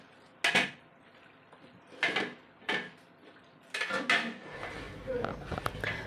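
Mutton korma is stirred in a pot, with loud, irregular metallic scrapes and clanks of a spoon against the vessel coming in bursts, separated by quieter pauses.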